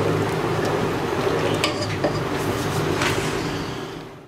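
A mixture being stirred and cooked in a pan over a low to medium flame for a bread malai roll, giving a steady, close scraping and soft sizzle with no talking.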